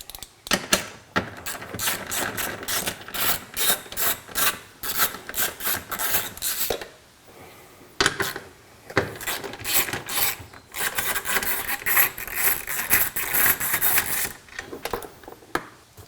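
A ratchet with a 10 mm socket works intake bolts loose on a 2024 Mini Cooper Clubman JCW, producing rapid, close rattling clicks in repeated bursts separated by brief pauses, with no talking.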